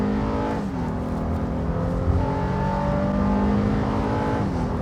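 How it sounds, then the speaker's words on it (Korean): A Honda Pilot accelerating hard from a standstill, a steady engine drone heard from inside the cabin that rises in pitch as the revs climb, continuous and moderately loud, with no talking. "어우, 처음서부터 아주 발진 가속이 제법 센데요"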